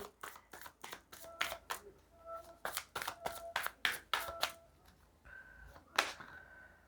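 Tarot cards are shuffled and drawn, giving a series of sharp riffling snaps and soft flicks in irregular bursts, close and fairly quiet, with no talking.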